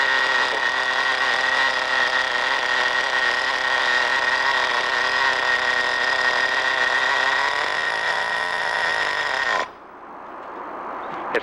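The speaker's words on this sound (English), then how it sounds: "Now it's idling right." The nitro engine of an RC10GT radio-controlled car idles with a loud, buzzy, high-pitched drone that holds steady, then drops and cuts out near the end.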